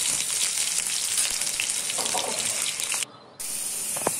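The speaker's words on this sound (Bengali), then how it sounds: "তা আমি প্রথমে আলুটা ভাজতে নিব" Potatoes fry in hot oil with a steady, close hiss and crackle that runs almost the whole time, broken only by a brief pause.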